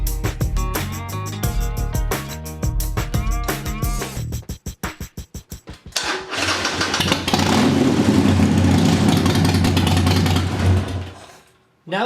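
A motorcycle fitted with a Cobra PowrFlo air intake runs loud and close, a throttle blip and pulsing rev giving way to a sustained steady engine roar that cuts off abruptly near the end.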